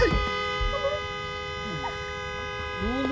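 A stuck car horn blares continuously in a steady tone while people talk and shout over it.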